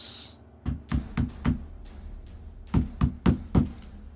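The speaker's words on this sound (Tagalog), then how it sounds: "Habang nasa banyo pa si Tasyo ay kumatok naman si Maris." Knocking on a door in two bursts of four sharp, evenly spaced raps separated by a short pause, loud and close with no talk.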